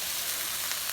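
Shrimp fried rice sizzling in a hot pan, a close, even hiss of frying with no voices over it.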